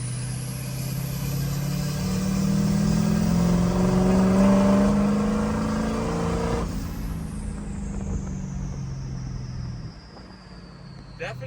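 A Ford 6.0 Powerstroke diesel with a 67mm VGT turbo spools up under acceleration, a rising turbo whistle over a loud engine drone, then it drops off as a gear shifts and the whine fades.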